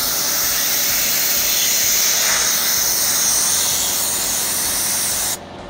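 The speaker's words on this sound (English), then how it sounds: "Spray it." A spray bottle mists cleaner onto a 2020 Range Rover's paint during clay bar decontamination, one long steady hissing spray lasting several seconds, close and loud, then cutting off abruptly.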